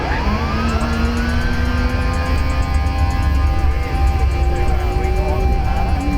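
Two Nissan Silvias, a grey S15 automatic with a 2-litre turbo and an S13, drag race with loud engines revving and climbing through gears, with a steady rising whine beneath and a commentator talking over them.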